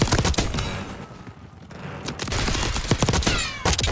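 Gunship gunfire in Call of Duty Black Ops 6, loud bursts of heavy rapid shots and booming impacts in dense clusters, with a short lull in the middle before the firing resumes.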